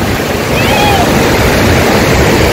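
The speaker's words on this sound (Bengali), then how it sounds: "এই যে সামনে যদি একটু দেখেন বেশ ভালো ঢেউ আসছে" Sea waves wash onto Tajpur beach in a loud, continuous roar of surf, with wind buffeting the microphone throughout.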